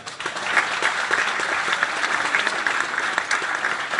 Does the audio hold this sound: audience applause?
yes